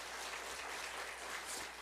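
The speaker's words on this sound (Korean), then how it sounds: "우리 송민호 목사님을 뜨거운 박수로 축복해 주시기 바랍니다" A church congregation applauds to bless a pastor: a faint, even hiss of many hands clapping together, heard from a distance with no break.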